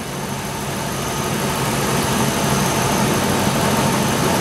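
A car engine idles steadily during an idle air control valve test, holding a constant, fairly loud hum with a slight rise in level partway through and no voices.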